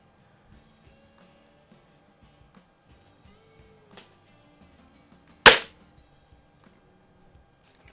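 A single sharp crack of a spring-piston Diana 24 or Daisy 856 air rifle being fired in a target shooting session, a brief loud snap standing alone against a quiet background.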